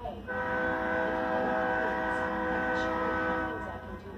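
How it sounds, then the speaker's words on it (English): A train horn sounds in one long, steady, loud chord-like blast that holds for several seconds before fading, with rumble underneath, heard while a model railroad workbench is being shown. "Alright, train coming."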